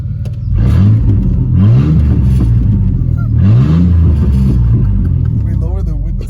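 Chevy S10 pickup engine without a muffler revved up to about 3,000 RPM, a loud rough rumble that climbs in two strong surges, with people talking over it.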